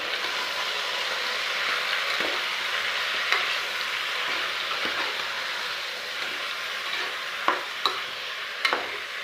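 Chicken pieces sautéing with turmeric in a pan, for a chicken curry: a steady, dense sizzle runs throughout, broken by a few sharp clicks and scrapes of stirring near the end.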